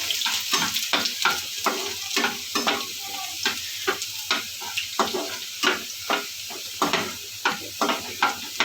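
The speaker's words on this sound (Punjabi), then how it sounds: "ਆਪਣਾ ਲਸਣ ਭੁੰਨ ਰਿਹਾ ਜੀ ਦੇਖੋ ਤੁਸੀਂ" Finely chopped garlic frying in a pan for a soya chaap recipe, a steady close sizzle with regular stirring scrapes about every half second, no talk over it.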